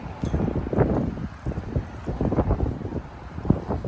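Gusty wind buffets and rumbles outdoors, coming in uneven surges with no talking.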